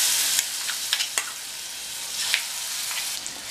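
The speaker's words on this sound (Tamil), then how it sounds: "இந்த ஸ்டேஜில் கருவேப்பிலை சேர்த்துடலாம். அது கூட நம்ம அரைச்ச விழுத சேர்த்துடலாம்." Curry leaves and ground paste sauté in a hot pan for onion thokku, giving a steady close sizzle with a few sharp crackles and stirring clicks scattered through it.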